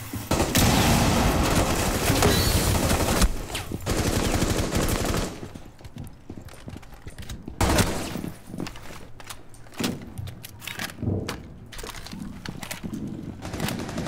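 Gunfire rattles through a Rainbow Six Siege match on the favela map, starting as a loud dense barrage that cuts off abruptly, followed by scattered sharper shots and thuds at lower volume.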